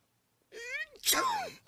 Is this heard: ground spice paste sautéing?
no